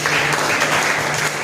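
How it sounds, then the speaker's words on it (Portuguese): An audience at a Christian talk gives a round of applause, a loud, even wash of many hands clapping continuously throughout the brief moment, with a low hum beneath. "Uma salva de palmas pela vida de cada um."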